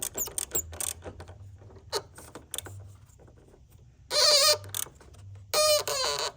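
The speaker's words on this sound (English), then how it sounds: "I will take the negative terminal off." A wrench works the negative battery terminal bolt on a car or truck. Scattered light clicks and taps lead into two loud, close bursts of rapid ratcheting.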